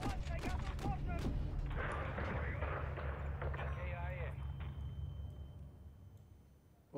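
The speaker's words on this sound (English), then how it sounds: "Mortar fire's incoming from the northwest." Mortar fire in the video game Call of Duty Modern Warfare 3, a steady rumble of distant explosive thuds under game radio chatter and voices.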